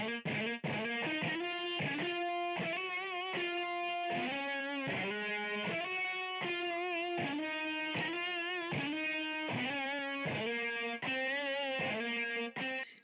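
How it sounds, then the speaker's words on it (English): A distorted electric guitar tone from the Expand plugin plays a continuous melodic line of sustained and rapidly changing notes with a chorused, effected character, loud and alone without any talking. "Now the first one I had was this distorted guitar."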